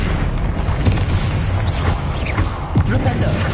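Booming fire explosions from the Confringo spell in Hogwarts Legacy crash repeatedly under dense, continuous game noise, with a loud thump near the end.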